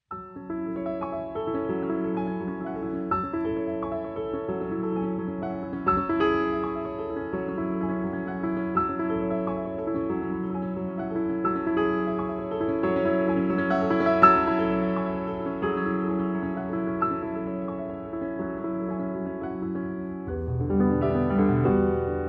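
A grand piano plays a sustained, evenly balanced passage with rich low and mid notes, closely miked by two wide cardioid mics in the arch of the piano, steady in loudness.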